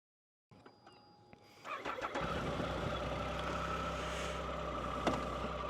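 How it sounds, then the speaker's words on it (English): A motorcycle engine starting up after a brief ticking from the starter, then settling into a steady, close idle hum with a few small revs, moderately quiet and without voices. "So let's get the bike going."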